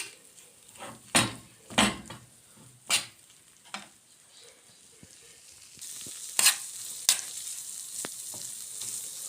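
Lentils warming in a little oil in a pan while koshari is cooked, giving a soft sizzle with several sharp clinks and scrapes of a spoon stirring against the pan, close and clear with no talk.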